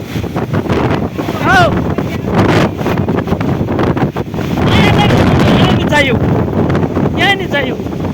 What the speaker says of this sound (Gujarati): 100 કિલોમીટરની ઝડપે પવન ફૂંકાઈ રહ્યો છે.